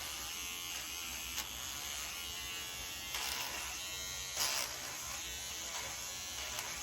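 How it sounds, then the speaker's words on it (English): Electric razor buzzing steadily as it shaves the hair off a Monster High doll's head, a close continuous hum with a few brighter bursts as it catches hair. "Why go through all the trouble of cutting when you can just shave it off?"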